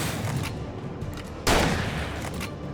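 A burst of rapid gunfire erupts partway through Alan Wake Remastered gameplay, loud and dense over a steady background roar of game noise.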